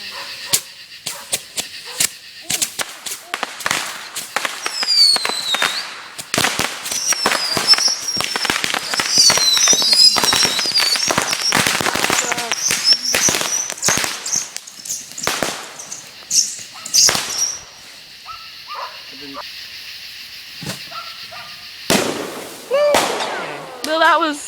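Fireworks and a huge sparkler bomb exploding outdoors near a big tree, a dense run of loud cracks and bangs with hissing crackle, thinning to scattered pops, with people talking and reacting between blasts.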